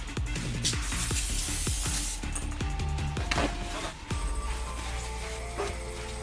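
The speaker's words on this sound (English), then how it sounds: "I'm going to spray it down with some brake cleaner" Bursts of aerosol brake cleaner hiss close by, mixed with clicks and light metallic clinks from cleaning brake calipers.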